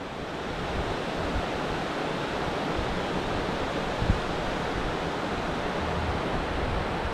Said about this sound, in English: all this water goes down in a river